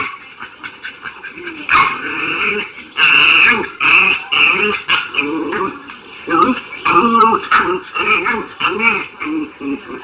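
Dog sounds, including low growls and whimpers, recur throughout at close range. Other noise and possible talk run underneath them.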